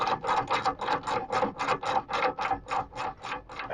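A ratchet tightens a bolt on a Suzuki Jimny brake: a steady run of about a dozen quick, rasping back-and-forth strokes, close and fairly quiet, with no talking.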